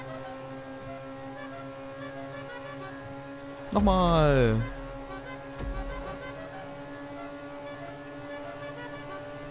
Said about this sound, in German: Warum hupe ich nicht einfach?